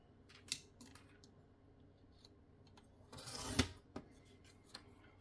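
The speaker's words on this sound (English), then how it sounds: "Okay, last card being cut." Scissors cut out small paper cards for a savings challenge game, giving faint, sparse snips and a louder crunching burst of cutting partway through. The room is otherwise quiet, with no talking.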